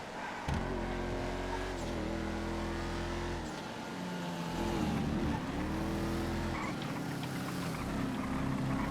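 Fast race cars, including a Schwarzer DTM and GT cars, roar past in GTA FiveM, with engines revving and shifting pitch continuously, loud and close, several cars layered together.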